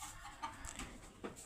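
Chickens cluck softly at a rain-soaked poultry farm, a few faint scattered clucks over quiet background.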